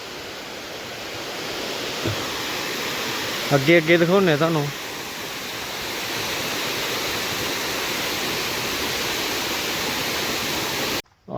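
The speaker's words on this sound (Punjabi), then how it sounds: "ਅੱਗੇ ਨਹਿਰ ਹੈ ਥੋੜਾ ਜਿਹਾ ਪਾਣੀ ਛੱਡਿਆ ਹੋਇਆ" Water released into a canal near La Roda village in Spain flows with a steady, close rushing wash throughout, while someone speaks briefly partway through.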